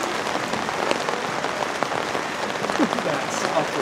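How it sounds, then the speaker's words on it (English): Heavy rain pours steadily outdoors during a friendly youth boys' football match, a dense even hiss with scattered drop patter, under faint crowd noise and occasional talk. "this rain doesn't stop"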